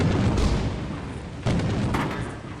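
Lightning strikes in the video game Lethal Company crack and boom in two or three sharp bursts over a dense rumbling backdrop, loud and close.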